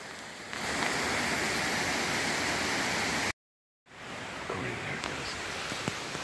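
Water pours at the bottom of Grand Falls in a broad, continuous roar close by. It stops abruptly during a brief gap, then resumes slightly softer with a few faint knocks over it.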